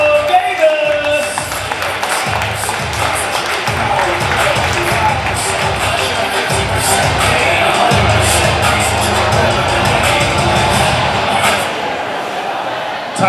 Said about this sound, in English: let's give it a big round of applause for our champion